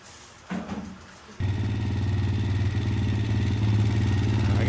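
A Kawasaki KFX 400 ATV engine catches after a brief cranking burst, then settles into a loud, steady, close idle with a rapid throbbing beat.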